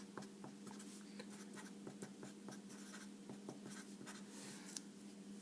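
Steady pen or chalk writing out a mathematical proof, continuous scratchy strokes with small taps, fairly quiet and close.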